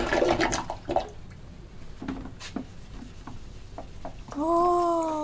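A sponge is rubbed by hand inside the bowl of a public toilet at a Tokyo train station, giving soft wet scrubbing and splashing strokes, followed by a louder rush of running water near the end.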